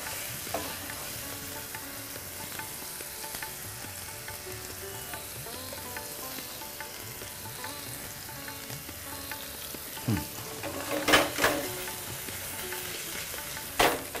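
Prawns frying in a pan with garlic and onion paste for chingri malai curry, a steady close sizzle throughout, with a few louder bursts and scraping stirs near the end.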